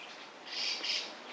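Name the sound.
birds chirping outdoors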